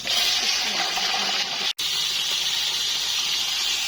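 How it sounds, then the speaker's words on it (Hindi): Beef keema hitting fried onions in hot ghee, a loud, steady hiss of sizzling with a brief break partway through, close and continuous with no talk. "इसमें इसी टाइम में कीमा ऐड कर रही हूँ"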